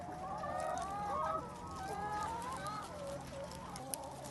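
Free-range hens clucking and chattering together in a farm chicken field, a steady overlapping cackle close by over faint outdoor background, with no talk.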